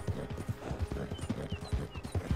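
Horses trotting in Red Dead Online, with steady, close clip-clop hoofbeats in a loping rhythm and a faint whinny behind them.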